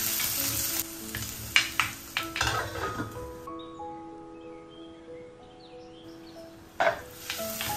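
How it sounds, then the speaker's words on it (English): Sliced shallots sautéing in hot oil with curry leaves, a crackling sizzle with several clattering stirs and pan knocks early on, settling into a quieter hiss before another clatter near the end. "Now saute the sliced shallots."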